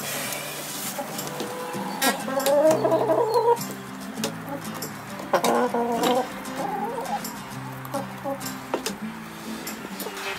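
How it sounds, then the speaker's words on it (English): A free-range chicken clucks near a step-on feeder on a homestead, with a run of bursty clucks and squawks close by, then quieter scattered calls. "This chicken probably wants it."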